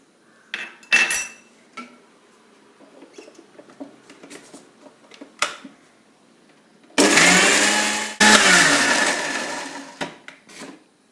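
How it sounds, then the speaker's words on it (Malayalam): A kitchen mixer grinder running on soaked black gram, chilli powder and tamarind with a little water, a loud harsh whirring burst of a few seconds after quieter clinks and knocks of the jar and spoon. "വെച്ചിരിക്കുന്ന ഉഴുന്നും മുളക് പൊടിയും പുളി ഇതെല്ലാം കൂടെ ചേർത്ത് നമുക്ക് മിക്സിയിലൊന്ന് അടിച്ചെടുക്കാം"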